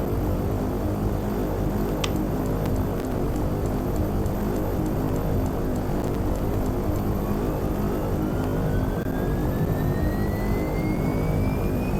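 The turboprop engine of a Beechcraft 1900D in X-Plane 11 spools up during start, a loud, continuous broadband roar with a whine that rises steadily in pitch, no voices.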